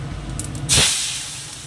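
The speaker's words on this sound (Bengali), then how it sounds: "দিয়ে দিচ্ছি একটা লঙ্কা আর দিয়ে দেবো সর্ষে ডালটা ঢেলে দিই" A brief burst of hissing sizzle as chili and mustard seeds hit hot oil in a pan, followed by a fading hiss in a kitchen while cooking tomato dal.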